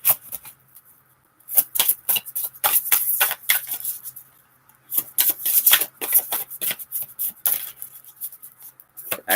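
Tarot or oracle cards being shuffled by hand in bursts of crisp, rapid riffling and flicking, pausing briefly between rounds, close and fairly loud with no talking.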